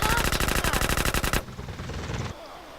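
Rapid automatic gunfire from GTA San Andreas Multiplayer, a fast rhythmic burst of loud shots for over a second, followed by quieter trailing rattles and echoes.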